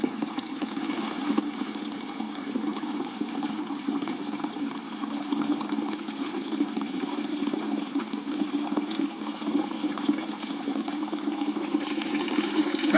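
Coolant water pouring steadily out of a Farmall Cub tractor's engine block, a continuous close gushing, splashing flow that keeps going without a break.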